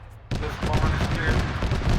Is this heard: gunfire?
yes